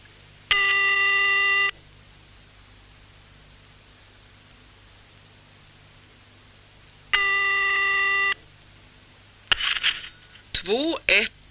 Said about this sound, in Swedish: Nästa dag ringer Ann till Greta och tackar för senast